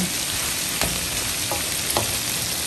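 Garlic shrimp sizzles steadily in a hot pan, with a few brief scraping clicks as the pieces are stirred and no talking.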